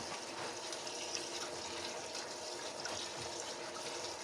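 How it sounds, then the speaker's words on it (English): Freshly picked nettles are washed and rinsed in water, a steady close splashing and running-water wash with no voices. "After picking the nettles, I wash them and rinse them twice so that they are clean and dust-free"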